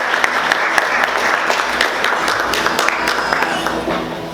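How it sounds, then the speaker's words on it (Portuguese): A church congregation claps together during a service, a dense, lively round of applause with some sharp individual claps standing out and a low hum of voices beneath. "Vamos aplaudir o Senhor bem forte, amém, queridos?"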